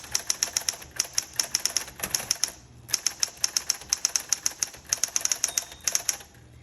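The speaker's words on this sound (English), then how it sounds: "Keep typing." A Smith Corona Coronet Coronomatic typewriter being typed on: sharp, fast key strikes in bursts with short pauses, close and loud, and a single bell ding near the end of the line.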